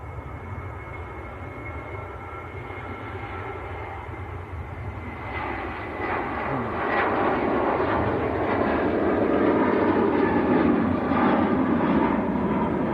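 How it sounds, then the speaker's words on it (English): A Ryanair jet rolls for takeoff to Cologne at Manchester Airport, its engines building from a moderate rumble into a louder, fuller roar that holds toward the end. "Number 1 to go is on the roll. Ryanair to Cologne."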